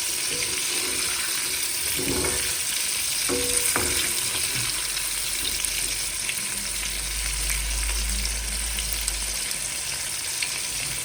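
Prawns coated for tempura fry steadily in hot oil, giving a constant, close sizzle and crackle with a few soft clinks of a utensil, and no talking.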